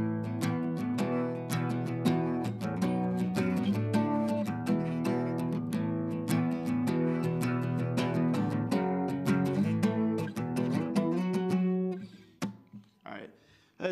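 Guitar plays the intro riff of a song in a continuous, busy run of picked and strummed notes for about twelve seconds, then fades to softer sounds at the end.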